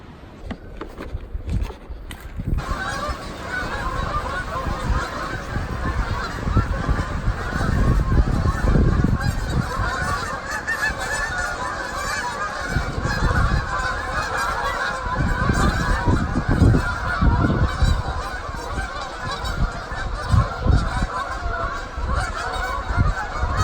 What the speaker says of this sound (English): The geese are congregating.